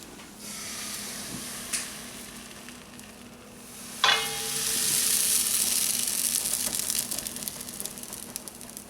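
Crepe batter fries in butter in a hot pan, giving a steady close hiss that swells into a louder, bubbling sizzle after a sharp tap partway through.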